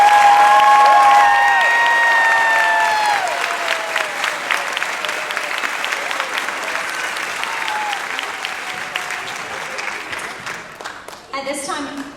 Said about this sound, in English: So let's give the kids another round of applause